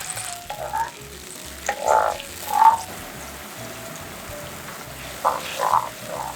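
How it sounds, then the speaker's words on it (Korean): A pre-made soy-based sauce hits a hot pan of fried aromatics, giving a low, steady sizzle with a few louder bubbling surges. Soft background music plays underneath. "미리 만들어둔 소스 부어주시고요."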